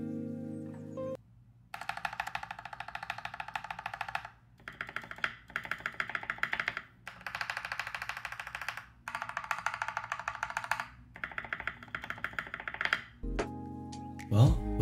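Typing on a TM680 hotswap mechanical keyboard fitted with KTT Mint linear switches and stabilizers, steady bursts of soft clacky keystrokes in several runs separated by short pauses, close and clear.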